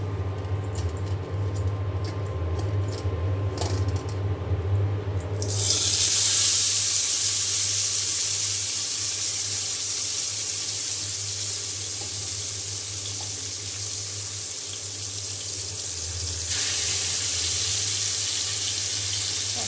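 Tilapia fish drop into hot mustard oil in a wok and set off a loud, steady frying hiss that keeps going after a quieter opening, with no talking.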